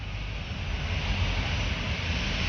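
EasyJet airliner taxiing toward the runway at Paris Orly, a steady broadband jet-engine rumble and whine holding constant throughout, with some wind noise over the microphone.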